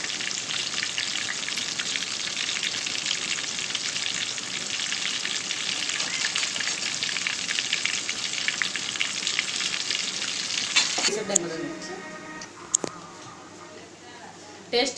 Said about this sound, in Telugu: అడుగంటనివ్వకుండా మొత్తం ఫ్రై అనేది చేసేసుకోవాలి.